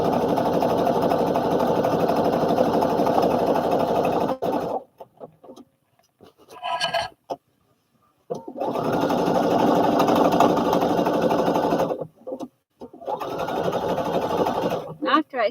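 A sewing machine stitches the hem of a trouser leg in long, loud, steady whirring bursts, stopping briefly between runs, with short quiet gaps and a few small handling clicks.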